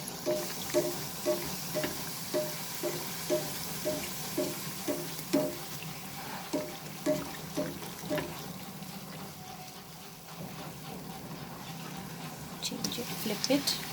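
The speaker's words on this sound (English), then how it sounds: "The same way, friends, I will fry all the puris now." Green peas stuffed puris frying in hot oil in a kitchen, a steady sizzle with rhythmic bubbling pulses repeating about every half second, a person talking over the cooking noise.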